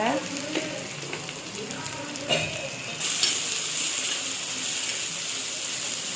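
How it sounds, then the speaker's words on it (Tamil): Onions sauté in a pan for fish curry, a steady sizzle with scraping stirs and occasional clinks of the spoon, growing brighter and louder in the second half. "இப்போ வெங்காயம் பொன்னிறமாகிற வரைக்கும் வதக்கி விட்டுக்கோங்க."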